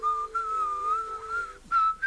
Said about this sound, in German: Er pfeift das Lied vom Anfang.